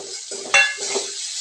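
Moth beans with a spoonful of spice mixture dry-roasting in a pan, giving a soft, close sizzle with light stirring scrapes and one brighter clink partway through.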